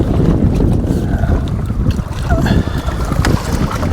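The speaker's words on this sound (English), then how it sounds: "This wind's a pain holding that landing net" Heavy wind buffets the microphone beside a reservoir during a fishing match, a loud, continuous low rumble with gusty surges and faint background sounds underneath.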